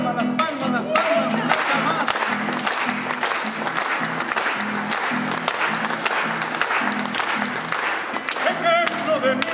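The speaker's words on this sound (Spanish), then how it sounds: "¡Palmas, palmas, palmas!" A crowd at a political rally of an Argentine popular organization claps hands steadily in dense, loud applause mixed with shouts and cheering, while a rhythmic drum-like beat and chanting voices run underneath throughout.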